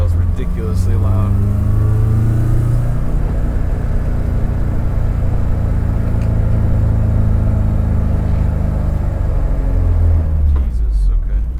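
Inside a K-swapped BMW E30, the engine drones and rises through the revs with a loud flywheel, a steady close rumble that swells and eases over several seconds while a voice talks over it.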